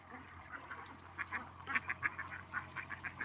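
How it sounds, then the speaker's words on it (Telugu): Thousands of ducks gather at a pond, and their overlapping quacks rise in a rhythmic, repeated chorus that sounds fairly distant and moderately quiet. "కొన్ని వేల బాతులు ఒకేసారి"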